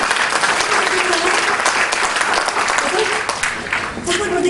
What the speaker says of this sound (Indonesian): Tepuk tangan dong sama Tuhan itu.